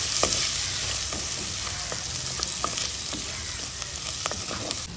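Brinjal and gongura curry with tomatoes being stirred in a pan as it fries, a loud steady sizzle with scraping spoon strokes repeating throughout, close and unaccompanied by talk.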